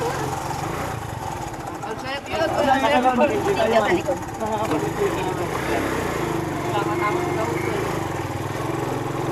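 A steady engine drone runs throughout, rising briefly louder partway in, with people talking over it.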